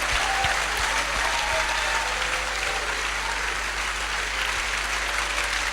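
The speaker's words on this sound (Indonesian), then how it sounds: "kita berikan tepuk tangan penghargaan kepada Pastor Sandy Adelaja. Tepuk tangan yang sangat meriah saudaraku" Steady, sustained applause from a large church audience honoring Pastor Sunday Adelaja at a 2002 church event in Indonesia, a dense, even wash of clapping that holds at full strength throughout.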